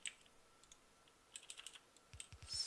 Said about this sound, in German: ihr hört das Klicken, das ist die Tastatur